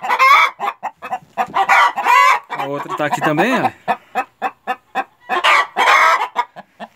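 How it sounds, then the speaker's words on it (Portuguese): Laying hens of the Embrapa 051 breed cluck and squawk in rapid, loud bursts inside a henhouse, with a drawn-out rising call in the middle; a person speaks briefly over the commotion. "hoje eu estou mostrando para vocês aqui a festa aqui no galinheiro que as galinhas fazem"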